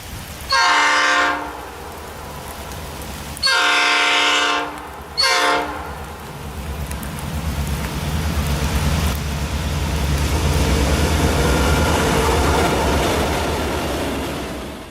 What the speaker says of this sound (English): we caught train B22 east of Albion with another high hood GP38-2 on the point